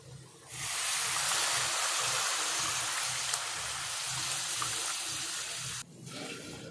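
A steady stream of water pours and splashes continuously into a cooking pan of egg omelette curry for several seconds, then cuts off abruptly near the end, followed by softer sloshing.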